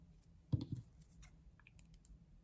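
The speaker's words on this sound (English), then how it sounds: "So I'll just cut a length of this yarn." Scissors snip through a length of yarn, giving a few small close clicks and one slightly louder crisp cut in otherwise quiet surroundings.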